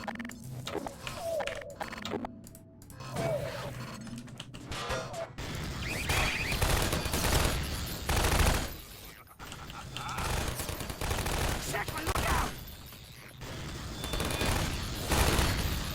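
Rapid video-game gunfire from Half-Life, with dense bursts of shots and crashes through the clip, loud and continuous over a busy game soundscape, with some talk mixed in.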